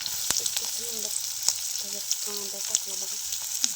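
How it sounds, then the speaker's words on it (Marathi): Onion frying with fresh curry leaves in a pan, a continuous close hiss of sizzling oil with sharp pops and crackles spattering throughout, while a person talks briefly in between. "कांदा असा लालसर भाजून घ्या आता"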